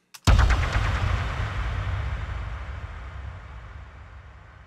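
An explosion sample from a sound-effects library, with delay and reverb added, hits as a single loud boom and then a long rumbling tail that fades slowly.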